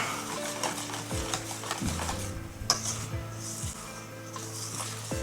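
Self-raising flour and other ingredients stirred together in a mixing bowl, a steady scraping and clinking of a utensil against the bowl with soft knocks, close and moderately quiet, no talking.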